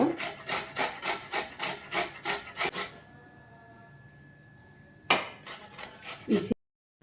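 Pumpkin flesh scraped over the coarse holes of a hand grater in a home kitchen, a steady rhythm of about nine close rasping strokes, then a quiet pause and a few more scrapes before stopping.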